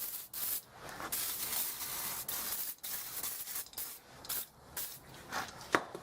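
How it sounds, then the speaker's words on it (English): Brake Clean sprays onto the brake disc of a 2006 Nissan Presage during a brake overhaul, giving close, loud hissing bursts separated by short pauses over about six seconds. "you need to spray that with a product like Brake Clean, otherwise it'll get into your new lining"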